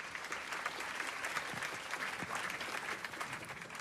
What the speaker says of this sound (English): You are very welcome to bridge the gap between two inputs with an applause